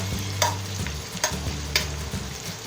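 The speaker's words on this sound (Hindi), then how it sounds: "प्याज थोड़ा सा लाल होगा, ये ट्रांसपेरेंट नहीं होगा, इसको हम भूनेंगे, थोड़ा कलर देंगे, ब्राउन कलर साइड पे लेकर आएंगे।" Onions fry in a pan for palak gosht, cooked until brown, with three sharp scraping strokes of stirring over a steady low crackle of frying close by.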